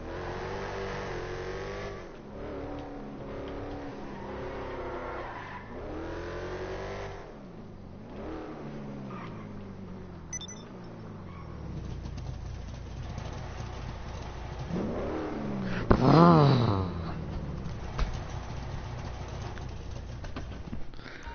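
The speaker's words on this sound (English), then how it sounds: "This is the engine sound it should have." A sports classic car in GTA Online revs hard, its engine note rising and falling through repeated loud accelerations, then a sharp high rev spike near the end, with no talking.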